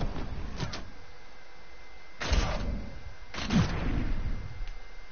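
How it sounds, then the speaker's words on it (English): Cannons in a video game fire in a few heavy booming blasts, each followed by a rumbling decay, with a lighter thud early on; no talking. "Oh, cannons."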